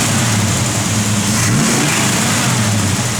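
A 1951 Chevrolet 3100 pickup engine with a cam runs loud and close, a steady low rumble that swells slightly in a rev partway through, with no talking.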